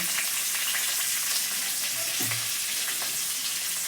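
Eggplant with spices, including cardamom, cinnamon and cloves, fries in a pan with tomato and salt, giving a loud, steady hiss with a brief scrape of stirring near the end.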